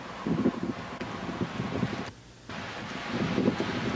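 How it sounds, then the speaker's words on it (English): Strong wind buffets the microphone in loud, uneven gusts, with a brief lull midway before the roaring rush returns; no one speaks. "It was very windy."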